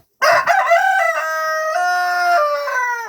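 Rooster crowing once, close and loud, a long drawn-out call with a sharp start that stays steady and then trails off, with no talk over it.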